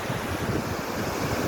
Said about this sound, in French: Alors ici ça s'appelle la cascade de Oxara Foss.